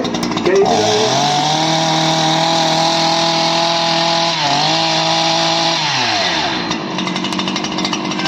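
A chainsaw cutting a fallen tree runs loud and close throughout, a steady buzzing drone with a brief dip in pitch midway before settling back.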